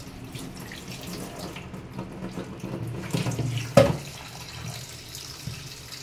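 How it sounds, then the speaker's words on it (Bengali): A kitchen tap runs steadily into a sink while fish and prawns are rinsed, a soft continuous splash with a brief louder clatter partway through. "এখন মাছ ধুচ্ছে"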